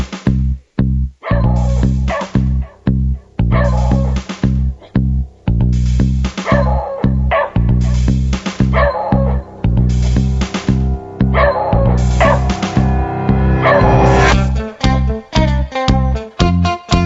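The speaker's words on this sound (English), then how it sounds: "what are you barking at?" Sprocket, an old dog, barks repeatedly and loudly up close in uneven bursts, some yips and whimpering barks mixed in, with no talking.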